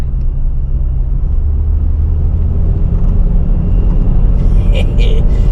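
A 40-year-old car drives on Scottish Highland roads, its low steady road rumble and engine drone filling the cabin from start to finish, with a short brighter rattle near the end.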